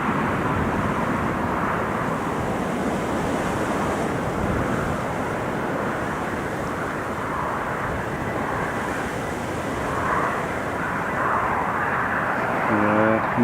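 A Ranger aircraft vacates the runway at Newcastle Airport, its engine a broad, continuous rumbling drone heard from a moderate distance, steady and loud, with wind buffeting the microphone throughout.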